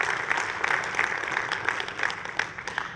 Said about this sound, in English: let's take a moment to give everyone a round of applause for Code Builder going GA this year